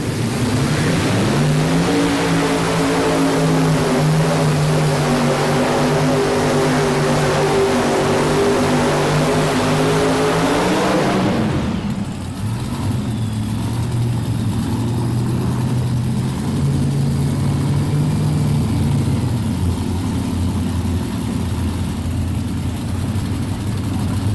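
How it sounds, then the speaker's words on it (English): A tractor-pull machine on a Berg Engineering chassis with four blown Chevrolet engines roars loud and close, its pitch climbing and holding through a long run before it abruptly drops to a lower, steadier engine drone. "That's a Berg Engineering chassis and 4 blowing Chevrolets on the board here."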